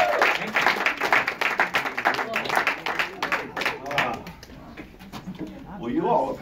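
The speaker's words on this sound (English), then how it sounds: "give another hand clap for this" A church congregation claps hands in a rhythmic burst of applause, distinct rapid claps close by, tapering off near the end as voices speak through it.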